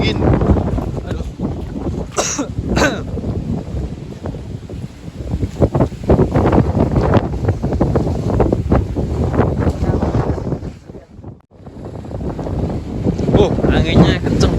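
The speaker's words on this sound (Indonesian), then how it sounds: "Anginnya kenceng banget." Strong, cold wind buffets the microphone on Mount Telomoyo in Central Java. The roar is loud and continuous, surging and dropping briefly near the end, and a person speaks over it.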